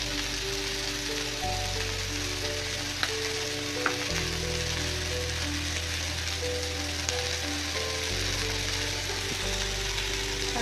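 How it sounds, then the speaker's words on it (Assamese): Vegetables and egg stir-fry on a high flame, giving a continuous sizzle with scraping and clattering of the utensil, fairly quiet and steady, with no one talking. "সেইখিনি আমি হাই ফ্লেমত ফ্ৰাই কৰিম।"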